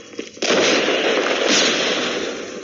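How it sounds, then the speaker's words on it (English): A flashbang grenade detonates in Call of Duty Mobile, a sudden loud burst after a brief quieter lead-in that then holds as a sustained bright, ringing blast wash for over two seconds. "Flashbang!"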